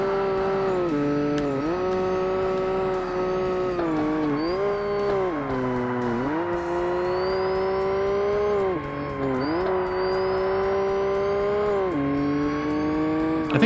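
Loud, continuous engine of a turbocharged race car in Forza Motorsport on Xbox, revving up through repeated gear changes with a pitch dip at each shift and a faint turbo whistle on top.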